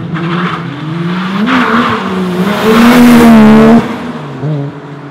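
A car engine revs hard while driving, climbing and falling in pitch with a loud surge peaking near the middle before easing off, close and alone with no talk.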